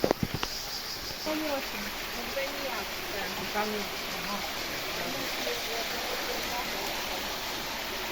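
Steady rushing of rainwater flowing over a beach path fills the scene, a constant broad hiss with a few knocks at the start, at Sutomore, Montenegro.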